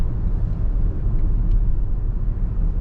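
Cabin of a Tesla Model Y Juniper with two people aboard, accelerating from about 40 mph: a steady low road rumble and tire noise, even and continuous with no engine roar.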